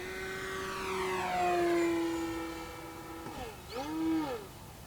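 A Durafly Tundra V3 RC model plane running on 4-cell power through a flat turn, its electric motor and propeller whine sweeping in pitch and rising and falling in loudness as it passes nearby.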